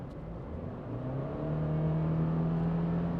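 A 2026 Subaru Forester Wilderness accelerates at full throttle in normal drive mode, heard from inside the cabin as a steady engine drone that gradually rises and builds in loudness, with no talk over it.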